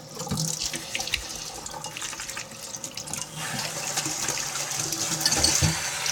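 Water runs from a kitchen tap while hands are washed, a steady close splashing stream into the sink that rises slightly toward the end, with no talk.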